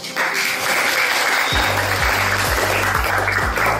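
A classroom audience claps loudly and steadily for a student group just after they introduce themselves, a dense, close burst of applause lasting a few seconds, with a low rhythmic thumping underneath in the second half.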